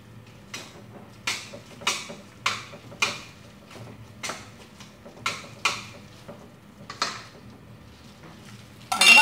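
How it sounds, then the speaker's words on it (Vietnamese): Sticky rice being turned over in a tall cooking pot makes about a dozen sharp metallic clanks and scrapes at a steady rhythm, close up and clear, with no talking. "Ta bắt đầu đảo nếp lên."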